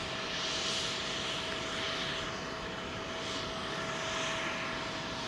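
Jumbo jet taxiing at London Heathrow Airport, a distant, steady engine whine and rumble with a faint high tone, holding even throughout with no talk.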